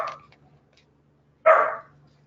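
A puppy gives two short barks, the first brief and faint, the second louder and close after a pause, against a quiet indoor room with a low hum.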